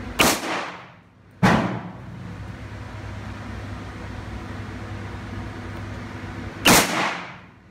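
Three loud, sharp gunshots at an outdoor shooting range, spaced irregularly, each with a short echoing tail fading into a steady background hiss.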